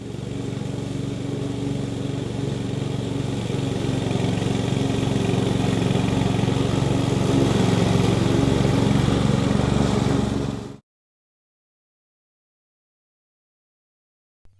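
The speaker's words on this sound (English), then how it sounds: "this ride-on lawn mower is suitable only for lawns on large area" A ride-on lawn mower engine drones steadily and fairly loud for about ten seconds, then cuts off abruptly into silence.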